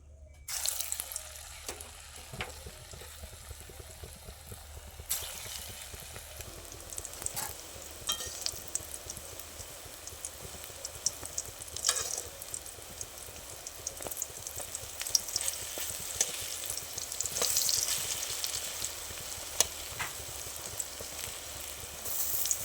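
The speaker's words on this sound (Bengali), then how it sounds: "এবার ডালের বড়াটাই ভেজে নেব," Masoor dal fritters frying in oil make a continuous broad hiss that swells gradually louder, with occasional sharper crackles and knocks standing out.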